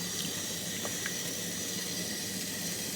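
Unmeasured water is poured into a sweet potato bake mixture in a pan, making a steady, close splashing hiss with a few faint clinks, no speech.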